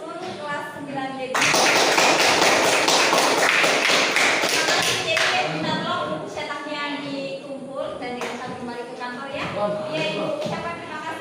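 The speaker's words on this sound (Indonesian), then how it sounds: "Jadi kita beri aplaus untuk seluruh kelas 9B." Applause for class 9B during a school academic supervision session, a dense burst of clapping that starts abruptly, swells loud for a few seconds, then thins out into scattered claps mixed with voices.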